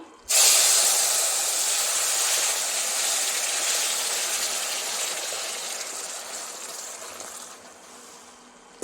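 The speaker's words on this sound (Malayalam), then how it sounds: "വെള്ളം നല്ലതുപോലെ തിളച്ചു നമുക്കിനി അത് റവയിലേക്ക് ഒഴിച്ചു കൊടുക്കാം" Three cups of boiling water are poured into semolina for kesari, a loud, sustained steamy hiss and gush that starts suddenly and slowly fades over about eight seconds.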